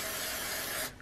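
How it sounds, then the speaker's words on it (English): Glue sprays from an aerosol can onto feathers in one close, loud, continuous hiss that cuts off abruptly near the end. "we want to make sure that we're spraying"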